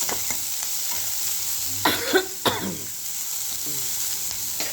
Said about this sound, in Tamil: வெங்காயமும் கருவேப்பிலையும் நம்ம சேர்த்துக்கிறோம்